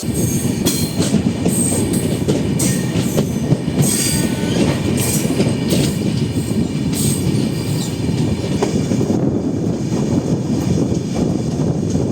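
The Cuddalore–Mysore Express rolls along the rails in a steady loud roar, with rhythmic wheel clatter over joints and intermittent high metallic squeals throughout, no voices.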